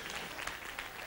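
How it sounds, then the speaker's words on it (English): A church congregation claps during a Sunday morning service, a brief, faint, dense patter of many hands heard from a distance. "Clap your hands for the victory."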